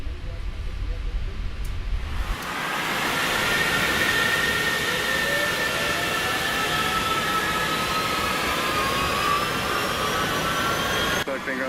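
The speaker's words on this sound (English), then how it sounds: "We're starting the engines now." Lufthansa Cargo Boeing 777 jet engine spooling up on the ramp at Seattle, a steady loud roar with rising whine tones building after a quiet start and holding throughout.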